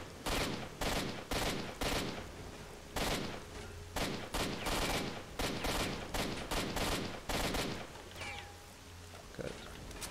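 Gunfire in S.T.A.L.K.E.R.: Shadow of Chernobyl while shooting at a sniper, with rapid, loud bursts and single shots in an irregular rhythm throughout, ending with a couple of spaced reports.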